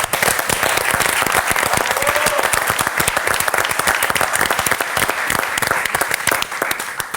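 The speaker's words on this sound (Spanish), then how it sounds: "Impresionante. Un aplauso para León." Dense, steady applause from a live audience honoring León, a former hockey player, sustained loud clapping throughout with a faint voice or two underneath.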